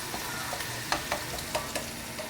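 White fried rice with anchovies is stirred and tossed in a sizzling pan, the spatula scraping in irregular light strokes about every fraction of a second over a soft, steady frying hiss.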